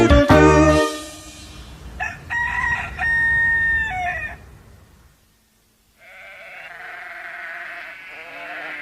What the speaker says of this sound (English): Hey, little cockerel, how do you do? Quite well, thank you, cock-a-doodle-doo.